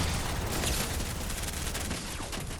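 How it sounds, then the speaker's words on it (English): Rapid SMG bursts from Fortnite crackle continuously at close range, a dense unbroken stream of shots with no pauses. "right now I'm only trying to use an SMG to show you guys how broken it is"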